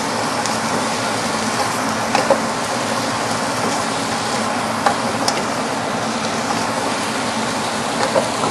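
Sweet potato noodles and Italian sausage are stirred in a pan: a steady frying hiss runs throughout, with a few light scraping clicks of the utensil, near and continuous with no talk.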